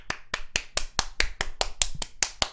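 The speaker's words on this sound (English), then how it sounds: "Clap it up." Crisp, evenly spaced hand claps, about a dozen in quick regular rhythm, close and dry with no voices.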